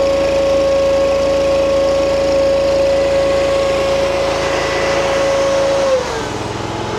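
A car engine idles close by with a loud, steady drone and a constant pitched whine, then the tone drops suddenly near the end as the engine note changes.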